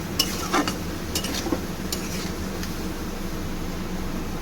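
A spoon scrapes and stirs spice masala in oil in a pan for koi fish curry, giving a few sharp clinks early on and then a soft, steady sizzle.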